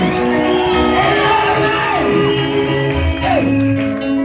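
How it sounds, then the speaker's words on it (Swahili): A church congregation cheers and ululates together in a loud, sustained wash of shouts and high trilling voices, rising and falling over a continuous crowd roar. "tukimpa shangwe na vigelegele"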